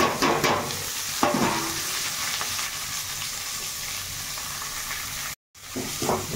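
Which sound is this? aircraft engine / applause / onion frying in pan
onion frying in pan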